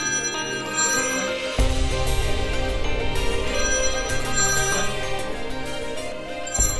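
A mobile phone ringtone plays loudly and continuously, a steady melodic electronic ring that carries through the room with no talking over it.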